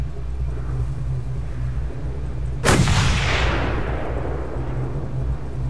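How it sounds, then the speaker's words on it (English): A single loud gunshot with a long rolling echo rings out in the Mad Max video game, aimed at a cable, over a steady low vehicle engine drone. "I wonder if you could shoot that cable and drop him down."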